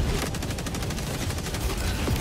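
Rapid gunfire rattles in the video game Helldivers 2, a dense burst of repeated shots with a revolver pistol among the weapons, loud and continuous across the moment.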